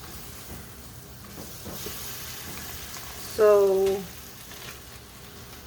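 Shrimp and pork fried rice sizzles softly in a pan while being stirred, a quiet steady hiss with a brief spoken word rising over it partway through.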